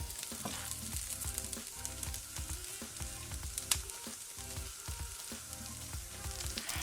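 Korean vegetable pancakes frying in oil in a pan, a steady bright sizzle with rhythmic crackles and pops close up, no voices.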